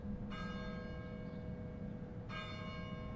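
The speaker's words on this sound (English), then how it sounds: "I hear church bells" Church bells toll in a video game, two rich metallic strikes about two seconds apart, each ringing out over a steady low ambient drone, with no voices.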